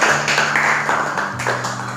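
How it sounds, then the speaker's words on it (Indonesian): Applause from an audience at a church children's preaching event, a steady wash of many hands clapping throughout, close and loud, with a low tone lingering underneath. "Tepuk tangan sekali lagi dong untuk kita semua."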